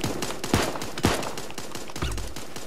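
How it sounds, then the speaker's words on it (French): Gun firing in the cartoon battle game Super Animal Royale: a string of quick, sharp shots at an uneven rhythm with a few heavier bangs, fairly loud and alone. "C'est comme ça qu'on tire."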